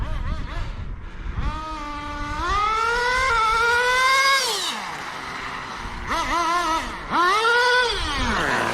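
Small nitro engine of a 1/10 GS Racing VisionRTH RC truck screaming and revving, its pitch climbing and dropping in repeated high whining surges.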